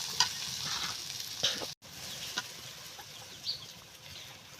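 Okra bhaji frying in a pan over a clay stove, a steady close sizzle with a few stirring taps and a brief dropout, and a chicken clucking faintly in the background.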